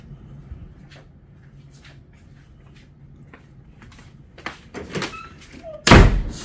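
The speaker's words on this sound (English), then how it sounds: "Slam the door." A door slams hard at a police station, one loud sharp bang near the end after a stretch of quieter shuffling and faint background voices.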